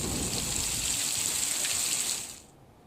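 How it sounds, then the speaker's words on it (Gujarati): Heavy July rain pours down in Navsari, Gujarat, during a flood threat, a dense, even hiss that holds steadily and then fades away over the final half second. "જુલાઈમાં જોરદાર વરસાદની"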